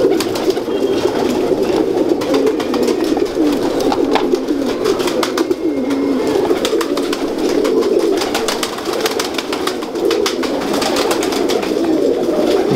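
Chapda breed pigeons bred by Sarfaraz coo steadily and close by, a continuous low burbling chorus with faint bird calls above and no talking.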